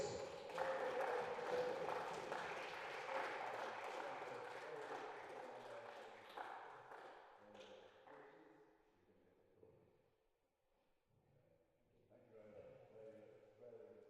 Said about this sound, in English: let's big round of applause for a gallant effort there from Paddy Joyce